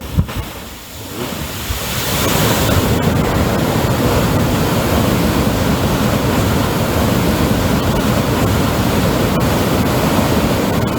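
Water gushes loudly and steadily from the pipes of the Sitarama project pump motors during a night trial release, a dense continuous roar that swells in over the first two seconds and then holds constant.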